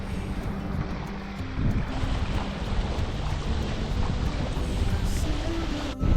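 Steady wind rush and waves wash past a sailboat on a beam reach running parallel to the shore in strong wind, a continuous broadband roar with no voices.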